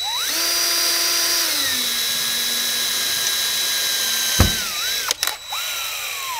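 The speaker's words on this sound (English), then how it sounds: "The first thing you're going to want to do is drill about an 1/8-inch hole" A power drill whines at high speed, its pitch dropping as it bites into a storm door's screw cover, then a couple of short clicks and bursts as it winds down and restarts.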